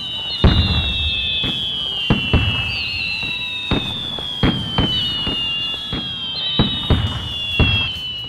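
New Year's Eve fireworks bursting in a steady series of about ten loud booms, with high whistling streaks trailing across the sky between the blasts.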